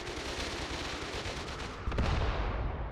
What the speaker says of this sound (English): That MG fire is perfect from their machine gunner over there.